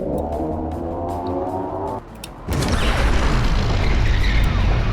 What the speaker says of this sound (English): I don't know if the explosion's bigger